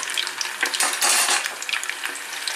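Crispy sesame chilli chicken pieces frying in hot oil in a pan while being stirred, with busy crackling, scraping and clinking of utensil against metal running steadily throughout, close and fairly loud.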